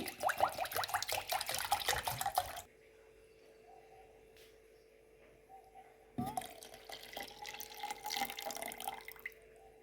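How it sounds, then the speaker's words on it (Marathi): Cold water pours steadily into a vessel for making buttermilk, stops for a few seconds leaving a low hum, then resumes pouring again, close and fairly loud. "आपल्याला आता ताक करायचं आहे एकदम हे थंड पाणी घालते मी"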